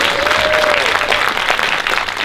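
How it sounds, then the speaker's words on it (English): A packed audience applauds a panel of local documentary filmmakers at a film festival discussion, a dense, steady wash of clapping that stays loud throughout, with a faint sustained tone gliding briefly through it. "one more time, a big round of applause for our entire panel here"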